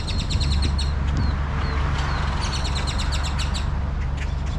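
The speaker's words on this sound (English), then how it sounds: "You just can't get a picture of one of these birds close enough." Several birds call over and over at a road trip rest stop, bright repeated chirps and whistles cutting through a steady loud background rumble of wind or traffic, with no one talking.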